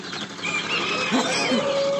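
Chickens at a busy poultry market in Nookat clucking and shuffling, with brief wing flaps and a couple of short squawks over a dense background of crowd noise and voices.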